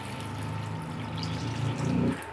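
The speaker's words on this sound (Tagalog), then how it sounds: "Lagyan na natin ng tubig." About a litre of water poured into a pork bulalo-style stew simmering in its own rendered fat, a steady continuous pour and splash with no talk.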